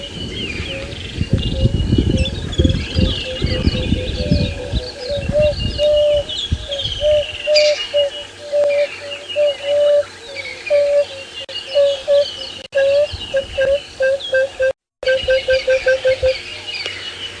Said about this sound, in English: Let me play you the emerald spotted wood dove